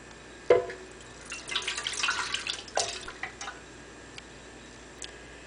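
An egg and water are poured from a measuring cup into a whole wheat bread mixture, giving a sharp initial plop and then a burst of splashing and dripping liquid that tapers into a few scattered drips.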